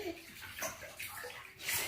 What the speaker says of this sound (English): He's splashing.